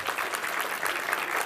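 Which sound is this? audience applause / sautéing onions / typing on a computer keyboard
audience applause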